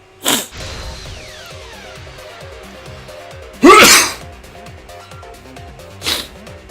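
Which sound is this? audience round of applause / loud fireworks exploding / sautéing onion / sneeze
sneeze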